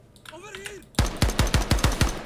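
Rapid bursts of gunfire ring out in the tactical shooter Ground Branch, about eight sharp, evenly spaced shots following a brief spoken exclamation, close and loud.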